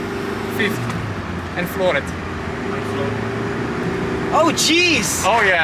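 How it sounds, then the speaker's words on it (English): A small car's engine drones steadily while its clutch slips under full throttle in fifth gear, a continuous strained hum running beneath excited talk from the people inside. "this is the sound of the clutch slipping"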